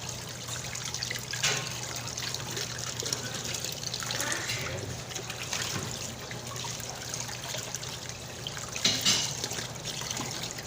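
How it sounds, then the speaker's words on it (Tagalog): Water trickles and splashes steadily from a tap over fish being rinsed, with occasional louder gushes, fairly faint and close. "hinihinis ko na lang sa tumutulong tubig"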